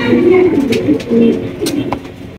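Mondi pigeons, including a red one, cooing in a loft: continuous low, throaty rolling coos from several birds close by, with faint clicks and rustling behind.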